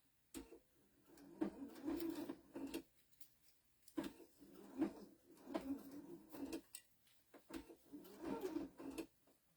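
A sewing machine fitted with a walking foot stitches a fabric flower onto a pin cushion, running in several short bursts of mechanical whirring separated by brief pauses, fairly quiet and close.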